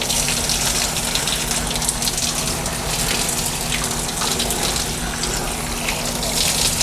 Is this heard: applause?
no